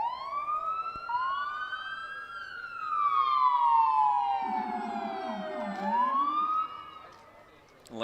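Fire and ambulance sirens from Neodesha Fire and Ambulance Department vehicles in a Christmas parade, wailing and sweeping up and down in pitch and loud, with a second siren overlapping midway and fading near the end.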